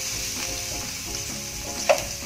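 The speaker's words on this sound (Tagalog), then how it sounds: "painit natin yung mantika, lagay natin yung ating sibuyas muna" Onions hit hot oil for a sweet and sour meatball dish, giving a loud, continuous close sizzle with one brief clatter near the end.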